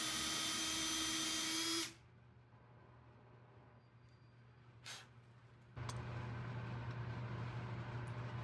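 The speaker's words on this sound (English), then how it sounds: "I'm drilling out the bottom where the lamp base will sit." Power drill boring into reclaimed wood for a lamp base over a sacrificial board: a steady loud whine that stops, a quiet stretch with a brief bump, then the motor running again, no speech.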